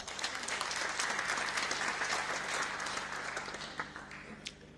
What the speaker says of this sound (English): He deserves our applause.